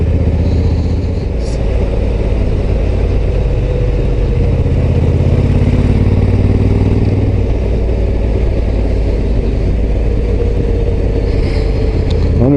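A Honda Africa Twin Adventure Sports motorcycle engine drones loudly and steadily while riding, with a constant low rumble and wind noise throughout and no talking.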